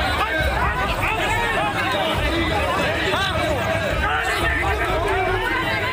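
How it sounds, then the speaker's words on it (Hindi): Hubbub of a dense crowd surrounding a TMC minister in a West Bengal street scene, continuous loud babble of many overlapping voices with shouts, close and steady throughout. "टीएमसी के मंत्री को भीड़ ने घेर रखा है।"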